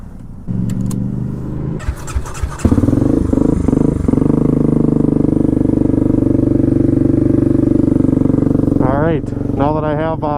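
Honda Grom motorcycle fitted with a swapped CBR engine starting up and then idling steadily at a fairly high speed, a close, loud, even engine note lasting several seconds, with someone talking over it near the end.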